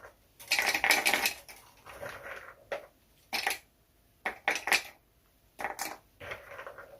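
Cashew nuts pour and rattle onto a kitchen scale in several uneven bursts, with crisp pattering clicks separated by short quiet gaps.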